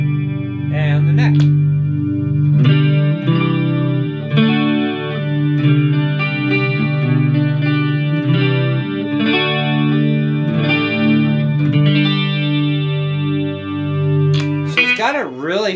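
An electric guitar plays through a Marshall MG15HCFX mini stack amp, with loud, sustained chords and notes shaped by chorus and distortion effects, ringing continuously for about fifteen seconds before a brief bright flourish at the end.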